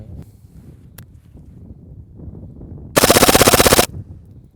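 An H&K MP7 gas blowback airsoft gun fires a full-auto burst of roughly a second: a loud, rapid, evenly spaced rattle of shots with quiet outdoor background before and after.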